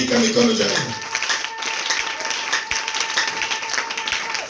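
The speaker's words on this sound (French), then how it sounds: "Acclamons la parole." A church congregation breaks into applause, a dense patter of clapping that fills the space, with a voice speaking over it.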